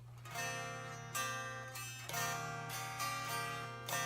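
A guitar plays a short intro phrase, several strummed chords ringing one after another at a steady, relaxed pace, close and clear.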